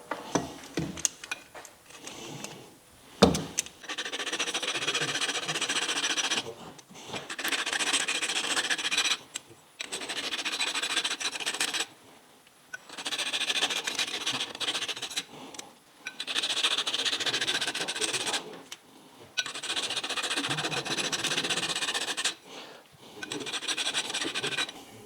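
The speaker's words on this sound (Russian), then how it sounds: "Нам надо очистить краску здесь" Paint being scraped off a metal part of a Toyota Land Cruiser Prado 150 KDSS system before welding: rough, rasping strokes in steady bursts of a few seconds each, separated by short pauses, close and fairly loud, with no talking.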